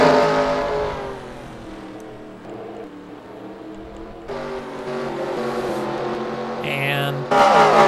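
IndyCar race cars in an IZOD IndyCar Series video game race at Walt Disney, with engines whining and droning at high pitch and intensity rising as cars pass, beneath steady commentary talk.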